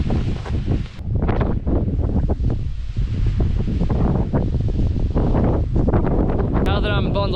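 Strong wind buffeting a microphone on a White Mountains summit, a loud continuous roar and rumble throughout.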